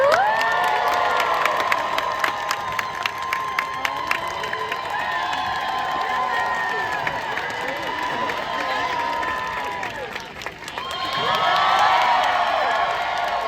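Audience at a birds of prey show at the Maryland Renaissance Festival claps and cheers loudly and steadily throughout, with children shouting and whoops mixed in, the noise surging again near the end.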